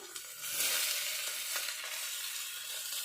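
Tomato and onion frying in hot oil in a pan for a mushroom dish, a steady loud sizzle with a brief stirring scrape near the start, close by and without speech.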